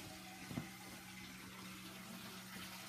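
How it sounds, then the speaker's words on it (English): Water runs steadily into an aquarium tank during a water change, a constant broad hiss with a faint click near the start. "Water's going to the tank"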